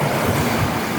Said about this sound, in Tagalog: Nandito tayo ngayon sa tabing dagat.